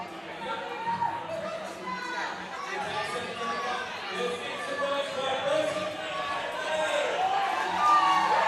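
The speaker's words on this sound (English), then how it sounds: "crowd's getting loud" Spectators at the Invictus Boston Invitational CrossFit competition, a busy murmur of crowd chatter and shouts that builds gradually louder, with a voice talking over the noise.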